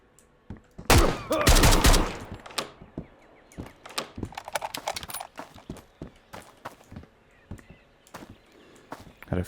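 Gunfire rings out in Road to Vostok from a poorly maintained weapon: a loud burst of several close shots, then scattered sharper cracks and clatters spaced irregularly over a quiet background.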